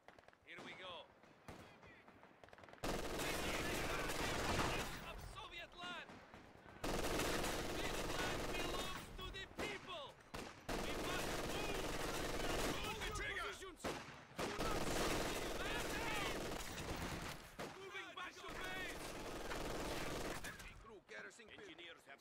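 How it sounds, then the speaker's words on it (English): A heavy machine gun team in Company of Heroes 2 fires long, loud, sustained bursts broken by short pauses, with battle noise and unit voice lines under the gunfire. "Heavy machine gun team, prepared for combat. That looks like a good spot for the MG."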